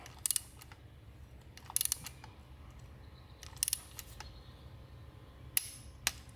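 A torque wrench tightens a spark plug on a 2010-2015 Chevrolet Volt to 18 foot-pounds, heard as a few sharp, brief clicks scattered over quiet near-silence, closing with two crisp clicks.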